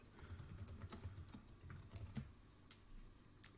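Fairly rapid typing on a computer keyboard while building a Notion workspace: a quiet, continuous patter of soft key clicks with a few sharper taps standing out, with no voices.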